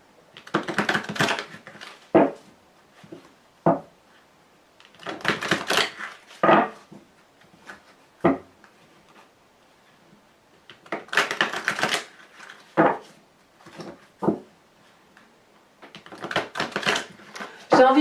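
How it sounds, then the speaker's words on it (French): A tarot deck being shuffled by hand, with repeated bursts of riffling and papery slaps and sharp taps as the cards are squared, close and loud, spread across about eighteen seconds. "mélanger les cartes"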